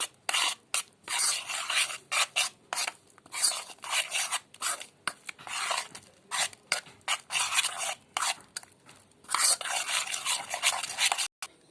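Gram flour and an egg are mixed together in a bowl with a utensil, a close rhythmic scraping and rubbing in repeated bursts with brief pauses between strokes, with no talking.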